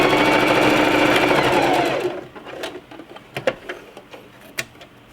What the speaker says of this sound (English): Just sew right off the end